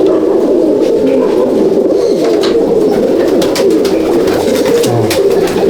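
A crowded loft of Andhra and Madrasi pigeons in Halisahar coos without pause, a dense, overlapping chorus of throaty murmurs with no talking.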